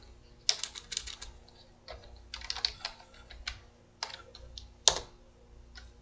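Keystrokes on a computer keyboard while entering JavaScript code, a run of close, crisp clicks in uneven bursts with short pauses, alone without speech.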